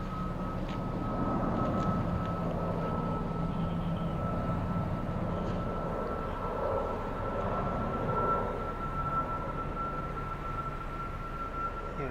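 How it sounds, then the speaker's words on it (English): A Phoenix-bound passenger airplane takes off at an airport, a steady distant jet roar with a sustained engine whine that holds for the whole stretch, and no voices. "This is the Phoenix flight taking off."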